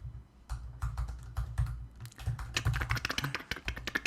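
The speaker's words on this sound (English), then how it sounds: "Make sure you type it really loud." Loud, rapid typing on a computer keyboard, with irregular close key clacks that speed up into a dense burst toward the end. No voices.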